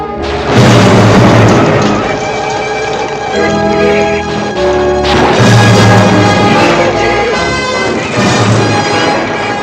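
Bombs exploding in a war movie, heavy booming blasts and crashes rolling one after another over a dense, loud soundtrack with a low rumble underneath throughout.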